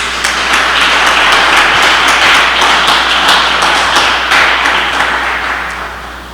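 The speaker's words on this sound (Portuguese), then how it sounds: "Você pode aplaudir o Senhor por isso?" Church congregation applauding together, a dense, loud, even wash of many hands clapping at once that holds steady and then begins to fade toward the end, with no voices.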